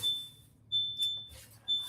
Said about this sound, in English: Somebody alarm is going on.